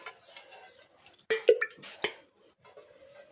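A metal cooking pot set down on a kitchen stove, a few clanks and clinks of cookware in a quiet room, close and moderately loud.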